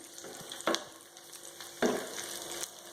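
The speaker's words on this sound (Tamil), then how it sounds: "2 சேர்ந்து நல்லா பொரிஞ்சு இந்த ட்ரை கிரேப்ஸ் அப்படி உப்பெல்லாம் வரும்." Dried grapes and cashews fry in ghee for pongal, giving a soft continuous sizzle with two louder bursts of stirring, close by and without talking.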